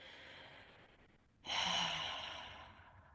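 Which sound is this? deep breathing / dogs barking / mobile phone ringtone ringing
deep breathing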